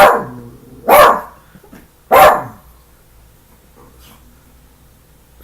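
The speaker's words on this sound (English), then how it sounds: "The dog, not trained, old, and likes to talk." An old, untrained dog lets out two loud, close barks about a second apart, each with a snorting, breathy edge, followed by quiet room tone.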